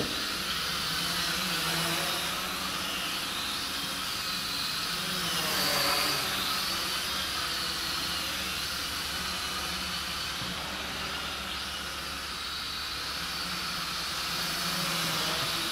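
A DFD F183 quadcopter drone flies fast in second speed, giving a steady broadband whirring hiss that holds nearly constant for about sixteen seconds with slight swells, heard from a moderate distance with no talk.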